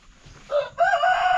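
Egg-laying hens on a farm give a loud, close call: a short squawk, a brief pause, then a longer, sustained crowing-like cry that carries to the end.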